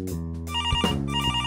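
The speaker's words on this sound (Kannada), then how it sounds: "ಫೋನ್ ಬಂದಿದೆ ನೋಡು." A telephone rings with a bright, repeating electronic ringtone melody in a pizza delivery workplace, loud and close, with steady pulsing tones and no talk over it.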